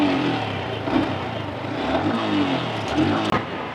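A used motorcycle's engine runs close by, a rough throbbing idle that swells into light revs across a few seconds, ending with a sharp click.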